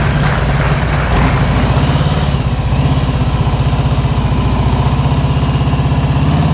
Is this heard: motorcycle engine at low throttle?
yes